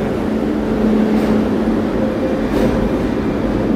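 Barcelona metro train running underground, a loud, even rumble with a low hum that holds steady throughout, no voices present.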